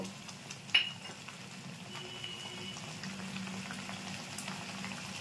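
Ginger paste goes into a frying katla fish curry masala. A soft spoon clink sounds early, followed by a quiet, steady bubbling sizzle that continues faintly throughout.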